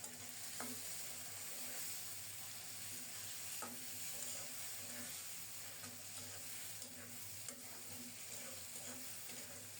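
Grated tomato stir-frying in a pan for ghugni, a faint continuous sizzle with occasional light spatula taps against the pan over a steady background hum; quiet and even, without speech.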